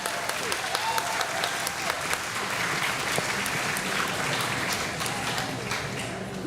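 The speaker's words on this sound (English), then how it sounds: "I think we should give them another round of applause." Warm, continuous applause from a gala audience after a performance, many hands clapping densely at a moderate level, with faint crowd murmur underneath.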